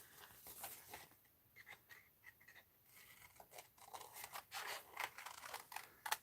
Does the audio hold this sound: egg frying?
no